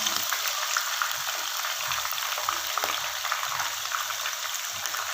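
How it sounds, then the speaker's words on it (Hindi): Bottle gourd kebab mixture frying gently in a pan makes an even, close crackling sizzle, with faint stirring underneath and nobody speaking. "सिर्फ हम इसको थोड़ा सा फ्राई करेंगे, जो है ये सॉफ्ट ही रहे, ज़्यादा जो है ब्राउन ना हो जाए।"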